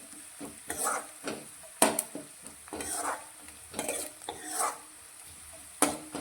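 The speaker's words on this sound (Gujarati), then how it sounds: "तो लसण पण आपणुं थोड़ुं संतळाई जाए" Crushed ginger and garlic stir and sizzle in hot oil for a quick puffed-rice snack, a spoon scraping the pan in uneven bursts with a steady frying hiss underneath, close and fairly quiet.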